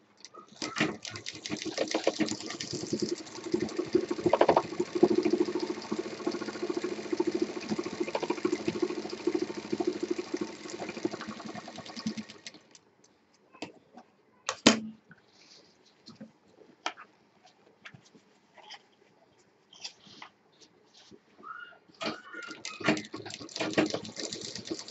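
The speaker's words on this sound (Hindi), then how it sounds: "इसमें भी हम डबल मशीन चलाएंगे" A sewing machine stitches a triple zip shoulder bag in one steady, close run of about twelve seconds, then stops. Quieter scattered handling noises follow.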